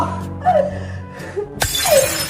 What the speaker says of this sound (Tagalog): Binasag niya yung baso!